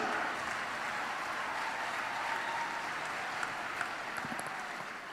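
Steady, even applause from an audience thanking a discussion panel at the R.I.D.E. 2024 research, innovation, design and entrepreneurship event, fairly quiet and slightly distant, holding on for several seconds with no voices.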